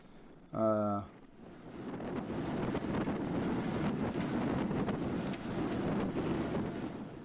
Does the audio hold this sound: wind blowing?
yes